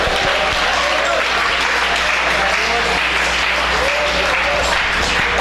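A church congregation applauds in praise during a service, a dense steady wash of many hands clapping throughout, with a low hum and faint voices mixed underneath.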